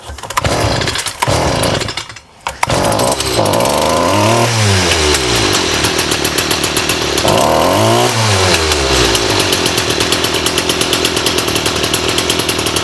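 A STIHL string trimmer engine sputters and catches on choke after a few pulls, then runs loud and steady with a buzzing two-stroke rhythm, close by.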